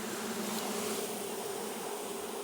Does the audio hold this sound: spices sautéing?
no